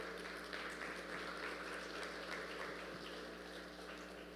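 A church congregation applauds, a continuous, moderately quiet wash of clapping that stays even throughout and fades slightly at the end, with a steady background hum.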